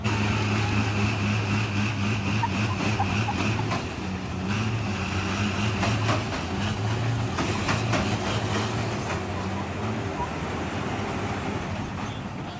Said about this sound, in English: they essentially both floor it and then try to push the other truck out of the ring